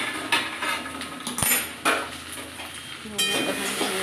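A lid comes off a pan and a spatula stirs okra frying over lowered gas heat, giving a few metallic clanks and scrapes over a soft sizzle, close by with no talking.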